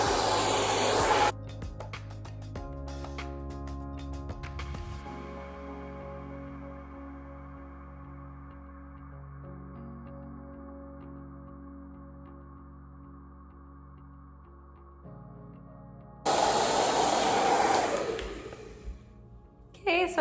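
A hair dryer blows loudly on hair for a moment at the start and again near the end, with quieter sustained tones in between.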